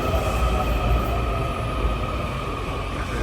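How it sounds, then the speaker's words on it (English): A Washington DC Metro subway train rumbles loudly and steadily from inside the car, a dense, constant roar of wheels and motors with no voices. "This is the train that's taking us to the one stop."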